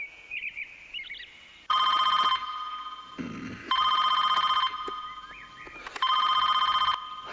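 Telephone ringing on a redialed call in a Hindi film scene: three loud electronic ring bursts of about a second each, separated by pauses, with faint chirpy tones in the gaps.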